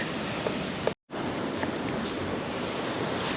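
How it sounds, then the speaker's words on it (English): Ocean waves wash onto a beach at Tangalle in Sri Lanka in a continuous, soft surf roar, broken by a brief moment of silence near the one-second mark, with no one talking. "it's amazing listening to the beautiful waves"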